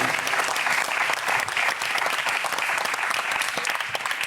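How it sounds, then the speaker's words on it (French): Audience applauding a winner at an innovation awards ceremony, a dense, continuous burst of clapping from a sizable crowd, fairly close and even throughout. "Donc on peut vous applaudir, effectivement"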